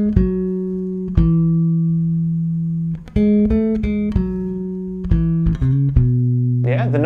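A bass guitar plays the melody of a song, a slow line of clear, sustained plucked notes, each ringing out before the next, with a few quicker notes near the end.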